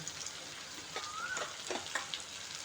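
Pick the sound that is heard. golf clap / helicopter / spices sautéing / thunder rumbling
spices sautéing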